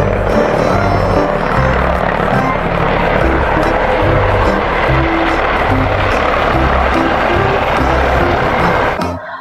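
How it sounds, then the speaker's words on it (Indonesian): A loud, steady toy helicopter drone with a pulsing rotor thrum fills the whole stretch, cutting off abruptly at the end. "Yang ini ada helikopter."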